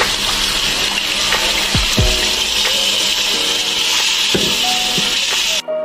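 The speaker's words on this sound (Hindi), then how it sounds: "मैं इसमें 3 गिलास पानी डाल रही हूँ।" Water pours steadily from a glass into a pan of fish curry being made from about a kilo of fish, a constant close rushing gush with a few clinks, cutting off abruptly near the end.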